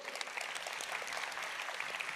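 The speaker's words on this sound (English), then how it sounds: "So applause for you." Applause from the audience at a large conference plenary on climate finance and disaster risk, a steady wash of many clapping hands, fairly soft and even throughout.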